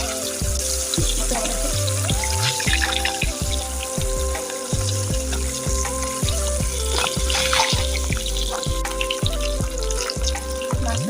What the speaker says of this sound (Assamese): মাছটো ভালকৈ ফ্ৰাই হ'বলৈ দিছোঁ।